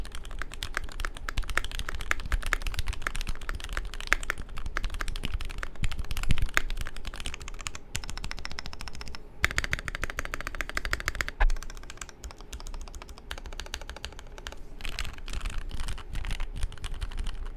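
Fast, continuous typing on a custom Asus ROG Azoth keyboard fitted with diamond-polished Cherry MX Black switches and GMK Striker keycaps, dense close-up keystrokes clacking without pause and no talking.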